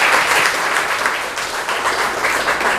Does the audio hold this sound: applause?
yes